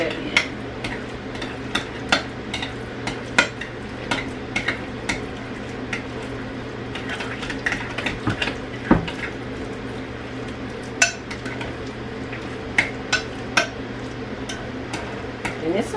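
A utensil stirs marmalade into orange loaf cake batter in a bowl, with soft repeated scraping and sharp clinks against the dish at an irregular pace under low background hum.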